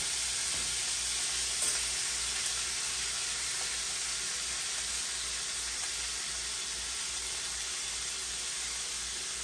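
Deer heart frying in butter in a cast iron skillet, a steady dense sizzle with no talk and no break.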